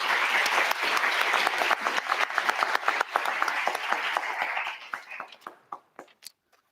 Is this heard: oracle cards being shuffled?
no